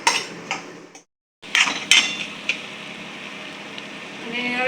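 A spoon scrapes and clinks against a pan while cooked rice is stirred into Maggi masala, giving close, bright metallic scraping with a few sharper clanks and a brief silent gap.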